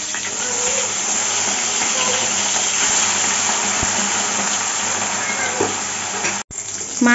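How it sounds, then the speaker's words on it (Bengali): Fish sizzling in mustard oil in a pan while being turned to the other side, a continuous loud frying hiss with a brief scrape and clatter near the end, no talking. "পিঠ হয়ে গেছে, আর এক পিঠ উল্টে দিচ্ছি।"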